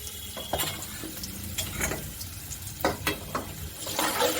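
A masala mixture for Kathiyawadi undhiyu is stirred in a cooking pot, giving scattered scraping and clinking strokes over a low background sizzle, close and moderately loud, with no talking.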